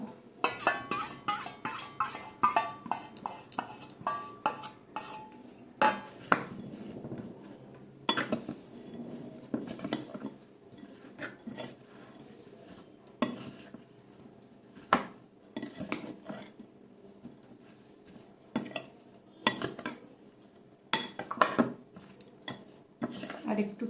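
Star fruit pickle is mixed with sugar in a dish, with irregular clinks and scrapes of a spoon against the dish coming in close bursts and pauses, and a few quiet voices in between.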